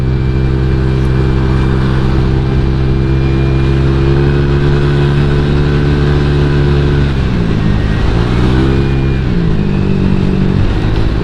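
A Honda Vario 150 scooter engine drones continuously while being ridden, steady and loud with wind noise, the pitch dipping and rising as the throttle eases off and picks back up.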